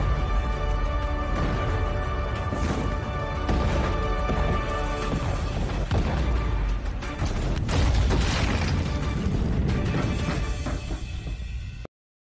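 Explosion effects from a Chinese war film: loud, dense blasts and crashing rumbles that pile on one another almost without pause for about twelve seconds, then cut off suddenly.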